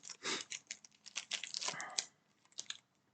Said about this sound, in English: I'm gonna shuffle these packs just because I don't want to map it.